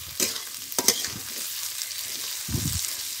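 Vegetables such as green beans and carrots frying in ghee in a pan, soft sizzling under a few sharp scrapes and clinks of stirring, with a low thud near the end.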